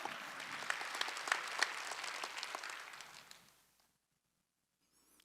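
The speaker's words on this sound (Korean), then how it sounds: "박수." A church congregation at a Wednesday worship service claps together in a brisk burst that fades out, followed by near silence and a faint sound at the end.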